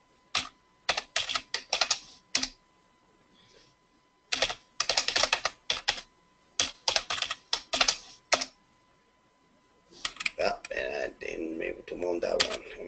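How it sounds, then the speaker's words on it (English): A password goes into a computer keyboard as rapid bursts of close key taps, separated by short pauses, with someone talking over the final stretch. "I typed the wrong password"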